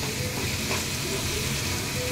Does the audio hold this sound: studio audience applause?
no